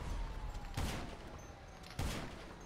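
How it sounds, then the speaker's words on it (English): Rail gun firing explosive rounds in a video game, two sharp blasts about a second apart, each with a short rumbling tail, quiet and without talk. "it's a rail gun"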